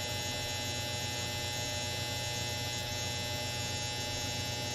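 A clothes dryer runs with a constant, even electrical hum and drone, steady and unbroken throughout, with no talking.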